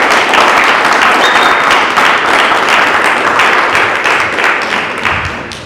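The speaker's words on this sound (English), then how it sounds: "You guys don't mind giving me a round of applause for Mr." Dense, loud audience applause fills the room for a speaker's introduction, holding steady before tapering slightly at the end.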